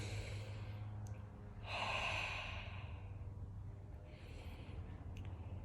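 Slow, deep breaths drawn in and let out, a couple of soft airy swells spaced a few seconds apart, faint and close over a low background hum, with no talking.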